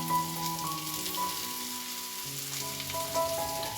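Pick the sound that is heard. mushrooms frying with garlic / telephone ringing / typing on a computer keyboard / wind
mushrooms frying with garlic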